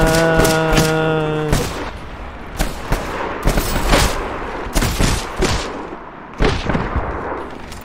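Repeated gunfire in Medal of Honor: Airborne during the Operation Der Flakturm mission, with a tonal sound fading out in the first second and a half, followed by a string of loud, sharp shots and bursts spread irregularly across the clip.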